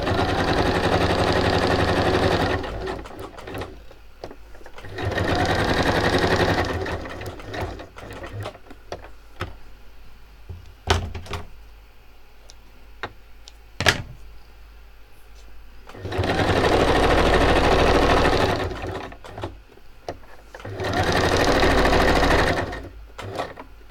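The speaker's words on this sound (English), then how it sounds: "I'll bring my machine over. I'm going to do straight stitch now." A sewing machine runs a straight stitch in long, steady whirring bursts, several runs separated by pauses filled with quiet clicks and handling noise, close by and without talk.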